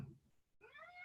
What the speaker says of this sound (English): Cat's just come in.